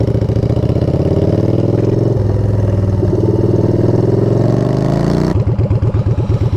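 A motorcycle rides along the road, on the way to a shop for new Michelin Commander 2 tires. The engine hums loud and close at a steady pace, then drops to a choppy, pulsing idle near the end.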